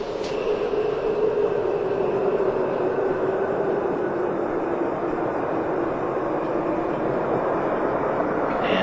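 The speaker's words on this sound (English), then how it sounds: "Space Shuttle Endeavour is rolling out on runway 15 at the Kennedy Space Center." Space Shuttle Endeavour rolling out on runway 15 at Kennedy Space Center after landing, a steady loud broadband roar and rumble holding evenly throughout with no talk.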